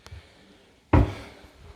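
A kitchen cupboard door under a sink gives a faint tap, then a single sharp wooden clunk as it swings shut, close by in a quiet room.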